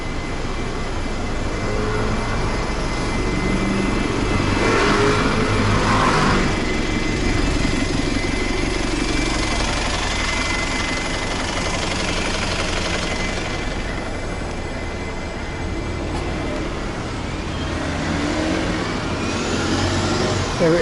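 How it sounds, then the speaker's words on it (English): Road traffic rolls past on a Stoke Newington street in London, a continuous wash of engine and tyre noise with vehicles swelling and fading one after another, fairly close and without talk. "I'll wait for the traffic to clear"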